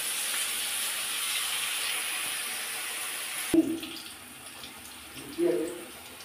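Tap water pours steadily as chicken is washed in a kitchen, a close broad hiss that stops abruptly partway through, followed by a couple of soft clunks and handling sounds.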